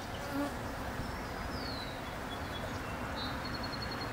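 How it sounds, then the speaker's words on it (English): A steady, dense buzzing of many honey bees close by at a hive, continuous and even, with faint higher whines drifting past. "this is all worker bees."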